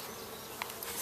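Bees buzzing around an outdoor colony, a steady close drone of many insects with one louder individual passing briefly.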